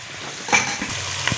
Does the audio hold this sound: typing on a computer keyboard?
no